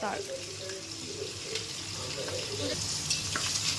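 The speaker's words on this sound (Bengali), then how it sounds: "এখন মাছগুলো ভাজা হচ্ছে।" Continuous crackling sizzle of hilsa fish frying in hot oil, close by and fairly quiet, with faint wet splashy noises.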